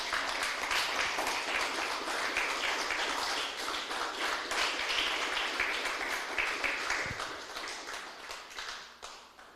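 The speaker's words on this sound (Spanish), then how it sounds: "Denle un fuerte aplauso al Señor, aleluya." A church congregation applauds the Lord, a dense, even wash of many hands clapping at moderate distance, sustained throughout and tapering slightly toward the end, with no talk over it.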